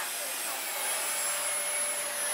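A vacuum cleaner runs with a steady, unbroken whine and rushing airflow, loud and close the whole time, with no speech over it.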